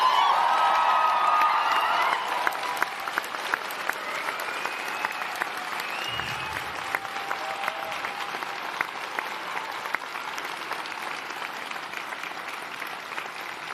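Sustained applause from a large crowd at a graduation ceremony, steady clapping that is loudest at first and then settles into a continuous, slightly softer roar.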